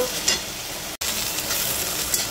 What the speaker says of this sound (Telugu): చూస్తారు కదండి, నూనెలో వేగిపోయేది.